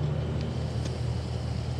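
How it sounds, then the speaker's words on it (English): HSV VF Clubsport R8 automatic in black, idling with a low, deep exhaust rumble, steady and fairly quiet, heard alone without talk. "The exhaust has that nice deep rumble to it without it being too noisy."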